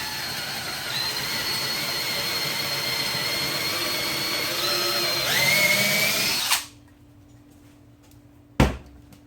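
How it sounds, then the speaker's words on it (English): A power drill in a vise-held wood block bores a 3/8 inch hole straight down. It runs at a loud, steady whine for about six seconds, then stops, followed by a soft hum and a single sharp knock. "drill yourself a 3/8 inch hole straight down."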